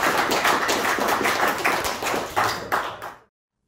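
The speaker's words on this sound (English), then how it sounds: "Let's give a round of applause to" An audience at a defence and security lecture gives the speaker a round of applause, the clapping sharp and fairly close, rippling for about three seconds before cutting off.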